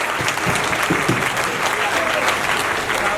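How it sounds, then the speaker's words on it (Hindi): Audience applause at a network marketing company stage event, a steady dense wash of clapping filling the room with a few louder claps near the start, and a voice calling out faintly underneath. "तालियां कम है साहब, जबरदस्त तालियां होनी चाहिए।"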